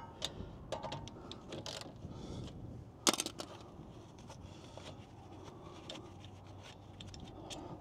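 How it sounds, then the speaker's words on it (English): Front brake caliper bolts being removed on a Land Rover LR4/LR3, heard as intermittent metallic clicks, ratcheting and scraping taps close by, with a sharper clatter of hits midway; no speech. "what we're doing is pulling these nuts out, these bolts, to remove the caliper"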